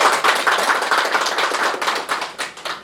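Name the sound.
audience applause at a signing ceremony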